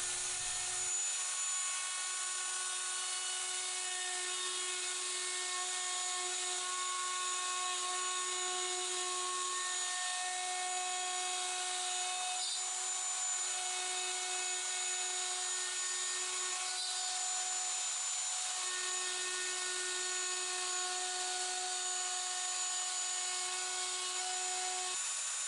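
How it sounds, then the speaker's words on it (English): A plunge router cuts a circle in plywood on a trammel, a steady high whine with strong tonal harmonics that runs continuously at close range, with no talk. "And then I just plunge and route around the circle."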